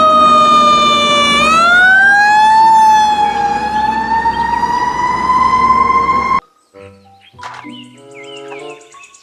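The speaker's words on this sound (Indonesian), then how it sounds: "Mobil truk pemadam kebakaran." A toy fire truck's electronic siren wails loudly and up close, rising in pitch and then holding a steady tone for about six seconds before cutting off sharply. Faint clicks and handling noises follow.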